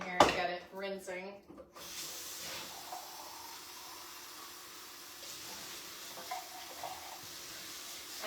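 Canned black beans are rinsed under running tap water, a steady hiss of water in a sink. A voice speaks briefly at the start, then the flow continues on its own at moderate volume.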